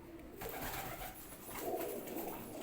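Pigeons coo from a breeder's loft in Islamabad, Pakistan, a low, soft burbling that rises and falls in two or three swells against steady background noise.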